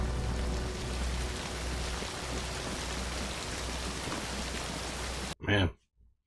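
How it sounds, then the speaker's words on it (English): Steady rain hisses and patters continuously, then cuts off abruptly near the end, followed by a brief low thud. "From snow to rain. Everything turns to mud."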